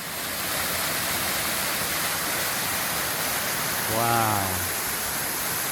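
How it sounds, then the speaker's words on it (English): Steady roar of a waterfall on the Pacific Crest Trail fills the clip from start to finish, a broad, unbroken rush of falling water heard close by, with one brief exclamation spoken over it near the end. "Oh wow, I'm walking up on this waterfall here."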